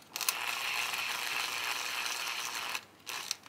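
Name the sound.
tightening an M3 screw on a belt drive bracket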